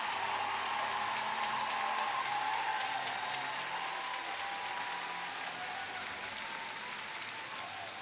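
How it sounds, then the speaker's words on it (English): Sustained applause from fans at a women's volleyball continental championship medal ceremony in Quebec City, a dense steady clapping from a large crowd that fades slightly toward the end. "the appreciative fans here in Quebec City give her a roaring applause."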